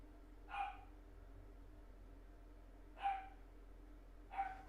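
Three separate barks from neighborhood dogs ring out at a distance, spaced a few seconds apart and faint against quiet room tone.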